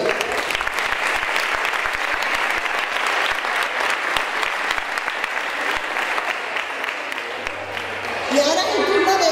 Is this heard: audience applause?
yes